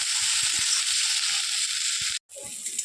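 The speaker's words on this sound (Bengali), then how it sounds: "আমি তিনটেই একসাথে নিয়ে নিয়েছি টমেটো লঙ্কা আর পেঁয়াজ আর এটাকে এবার ফ্রাই করব" Tomato, chilli and onion frying together in a pan, a loud, steady broadband sizzle that cuts out abruptly for a moment near the end before resuming, with faint stirring clicks underneath.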